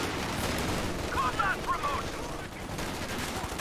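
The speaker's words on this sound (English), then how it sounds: "Bundle grenades!" Gunfire and explosions from the Company of Heroes 2 strategy video game, including bundle grenades, crackle in bursts of rapid shots over a busy battle backdrop, with a few sharper pops in the middle.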